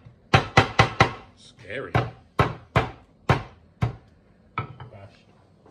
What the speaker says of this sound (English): I'm going to sort of bash the lemongrass, make sure all the flavours sort of can easily soak out into the curry